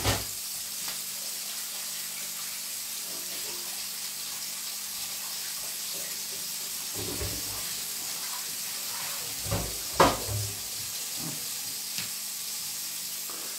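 Weißwurst fries in a pan with a constant bright sizzle and hiss, broken by a few clattering knocks from a utensil toward the end.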